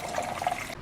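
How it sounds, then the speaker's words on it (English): Water splashing and swishing in the bowl of a makeup brush cleaning system, a short close burst of liquid churning that cuts off abruptly near the end. "The water is still splashing out"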